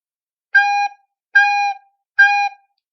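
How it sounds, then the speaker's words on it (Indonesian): Three separate recorder notes on one steady pitch, each crisply tongued with a 'tu' attack and of equal length, sound clearly and close up with silence around them. "itu cara meniup recorder dengan cara menyebut tu dengan lidah"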